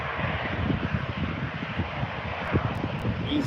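An EasyJet airliner climbs out at Birmingham airport, heard as a steady, broad jet roar with wind buffeting the microphone, continuous and moderately distant, no voices.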